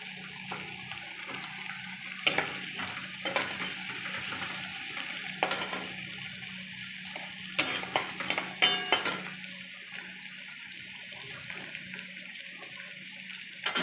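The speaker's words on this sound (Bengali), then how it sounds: "সব একসঙ্গে ভেজে নেব।" Capsicum and carrots for fried rice stir-frying in a pan, with a steady background sizzle broken by repeated scraping and clinking strokes of a spatula against the metal, close and clear with no talking.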